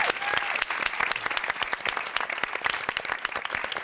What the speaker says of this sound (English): I would also just like to add another extra round of applause for Maria